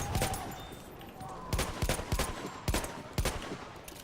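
Bursts of gunfire in the video game Battlefield 1, several sharp cracks and short volleys spread over a few seconds at moderate loudness, with faint background noise between shots.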